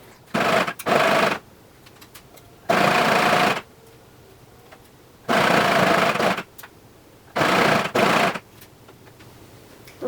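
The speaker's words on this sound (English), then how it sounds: "sew the straps on my cover stitch" A cover stitch sewing machine runs in several loud bursts of about a second or two each while stitching straps onto a stretch dress, with quiet pauses between runs and no talking.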